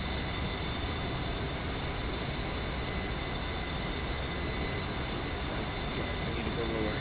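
Steady, continuous aircraft engine drone from a jet flying low in the Digital Combat Simulator game, loud and unbroken throughout, with a faint hint of voice near the end.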